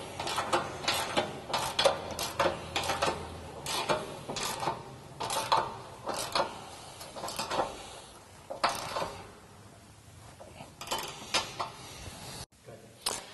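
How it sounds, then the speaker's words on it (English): A 1/4-inch ratchet tightens nut-insert bolts on a Jeep JK rock slider, producing bursts of quick, close clicking strokes in an uneven rhythm, pausing briefly before resuming. "I normally use a 1/4-inch ratchet, as you don't want to over tighten the nut insert into the body"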